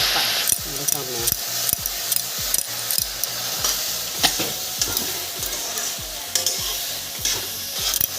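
Spices and tengamora greens being stirred together in a pan for a fish curry, with a rhythmic series of close scraping strokes over a continuous sizzle.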